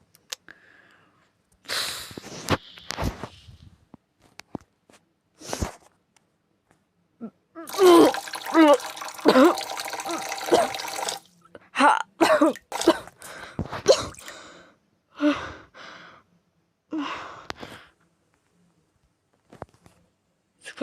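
A person vomiting repeatedly in bouts of retching, splashing and gagging, close and loud, with pauses of sniffing and throat clearing between episodes.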